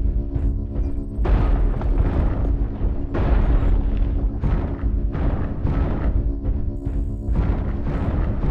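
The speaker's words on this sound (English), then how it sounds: "artillery strike online" Repeated heavy booms of artillery strike explosions in an online shooter game, rolling in roughly every one to two seconds with deep rumbling tails, loud and continuous with no talk.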